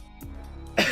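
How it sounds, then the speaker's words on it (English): A single tickly cough comes after a short throat-clearing sound, close and fairly loud, with no talk around it. "Tickly cough."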